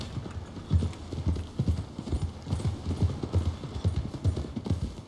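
Horse hooves trot at a steady clip-clop in Red Dead Redemption 2, a continuous rhythmic beat at moderate distance with faint ambient noise around it.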